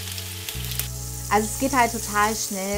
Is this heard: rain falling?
no